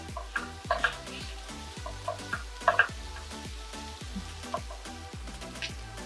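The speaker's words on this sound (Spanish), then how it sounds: "Vamos a mover para que la papa se fríe por todos lados" Potato pieces sizzle and fry in a pan while being stirred, with repeated light scraping and clinking strokes against the pan over a soft continuous crackle.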